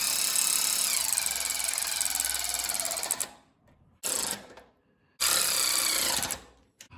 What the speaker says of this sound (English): These bolts are 9/16, and I've got it on my ratchet and the wrench